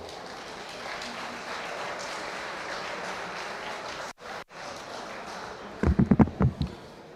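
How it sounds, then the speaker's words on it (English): At a senior legacy awards ceremony in Riverside County, an audience gives a round of applause, a diffuse, moderate wash of clapping that drops out briefly, followed by a few louder close thumps near the end. "One more round of applause for Wisdom Soul."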